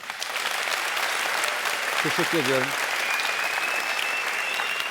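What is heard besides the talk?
audience applause for band members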